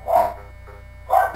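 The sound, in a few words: dog barking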